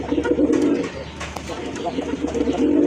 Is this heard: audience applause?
no